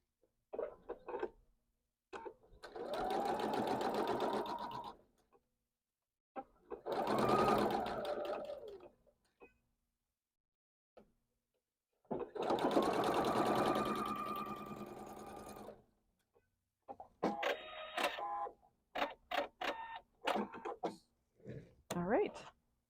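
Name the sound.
sewing machine sewing quilt block rows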